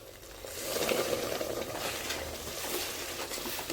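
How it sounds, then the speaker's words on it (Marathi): A milk and water mixture poured slowly into a hot pan and stirred, giving a steady sizzle and soft scraping at moderate loudness, with no talking. "आता यामध्ये आपण जे दूध आणि पाण्याचं मिश्रण करायला ठेवलं होतं ते आपण घालून घेणार आहोत"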